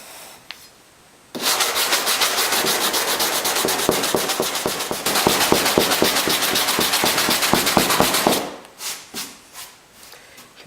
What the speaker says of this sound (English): You can see here I'm starting to catch the lip of the sandpaper.